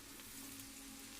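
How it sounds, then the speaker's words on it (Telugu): Potato chips fry in a pan of hot oil with a steady, dense sizzle, close and continuous and without talk. "ఇప్పుడు మనం కొన్ని వేసుకొని వేపుకోవాలి."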